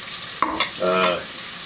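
Sausages, bratwurst and other meats drop into a pan of softening, lightly browned onions for cowboy baked beans, giving a sharp clatter followed by a loud, close sizzle that swells and then settles.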